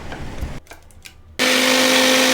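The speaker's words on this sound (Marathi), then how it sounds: "या मसाल्याला मिक्सरमधून बारीक करून घेऊया" A mixer grinder starts up abruptly after a few soft clinks and quiet handling, then runs loud and steady, whirring as it grinds masala for a Rajasthani besan gatte sabji.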